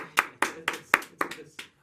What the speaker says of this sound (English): I hear claps.